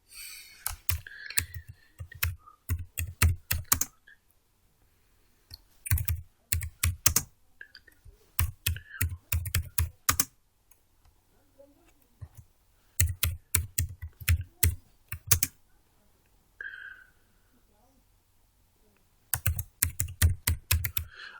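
Bursts of rapid key clicks on a computer keyboard while typing a shortcut and text in Microsoft Word, coming in several separate runs with quiet pauses between them, close and crisp with no talking.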